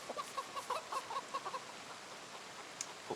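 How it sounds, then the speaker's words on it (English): A video game chicken clucks in a quick run of short, even calls, fairly faint over a steady background hiss, then falls quiet. "Their specific clucking sounds very much like techno chicken"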